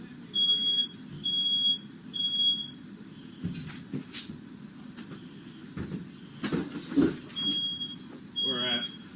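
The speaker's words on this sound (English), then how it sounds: "So y'all not doing anything about the smoke alarm or the smoke." A smoke alarm indoors sounds repeated short high beeps in groups after fireworks went off in a room. The beeps drop out briefly in the middle while people talk and shuffle around nearby.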